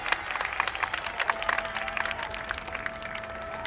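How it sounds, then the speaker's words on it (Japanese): Audience applause at a Sendai Michinoku YOSAKOI festival award ceremony on the civic plaza final stage, a steady scattered patter of clapping from a crowd, moderately distant and even, with a faint sustained tone running underneath. "がっちりと拍手をなさいました。"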